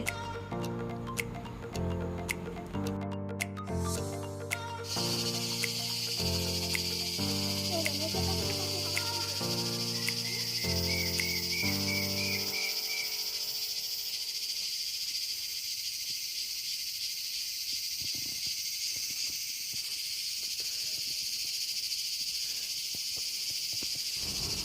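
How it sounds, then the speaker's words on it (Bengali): Crickets along a rainy, cloudy forest road near Sillery Gaon in East Sikkim, keeping up a steady high shrill chirring throughout. Faint bird calls join in, and a tonal melody sounds over the first half. "জঙ্গলের আওয়াজ শুনতে পাচ্ছেন নিশ্চয়ই পুরো রাস্তাটাই ঝিঝি পোকা এবং পাখির ডাক সঙ্গে করেই"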